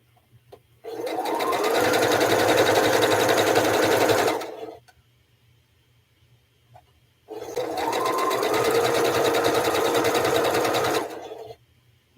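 A sewing machine stitches quilt sashing strips in two long steady runs of rapid mechanical whirring, each about four seconds, separated by a brief pause with only a faint background hum.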